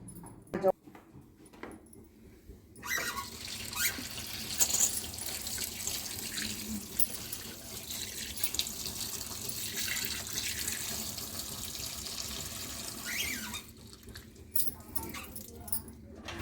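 Fresh drumstick leaves rinsed under a running kitchen tap, with a steady stream of water splashing into a sink through most of the clip, brief handling noises, and someone talking over it.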